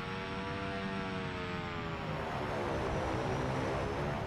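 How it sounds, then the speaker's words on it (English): Kodiak turboprop aircraft in X-Plane 11, beta-range propellers giving a steady buzzing drone with falling harmonic tones that slide downward, fairly close and alone. "Listen to those beta props from here."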